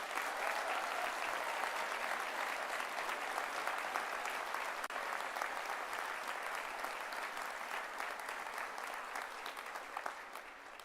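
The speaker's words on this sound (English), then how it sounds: "Please give them a big round of applause too." Sustained applause from a large graduation audience at a University of Stirling ceremony, dense and steady throughout, tapering slightly toward the end with no speech over it.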